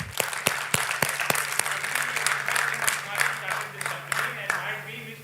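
Applause from an alumni meet audience, steady dense clapping with a few sharp claps standing out, a low steady hum underneath and voices mixed in throughout.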